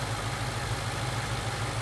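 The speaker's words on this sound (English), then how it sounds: "we've got this 5-liter Coyote engine just purring away" A 2015 Ford Mustang GT with its 5.0-liter Coyote V8 idles in a steady, even low burble, recorded up close and heard alone.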